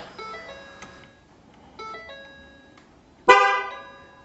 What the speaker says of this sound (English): that horn honk signifies that the TPMS system is in learn mode.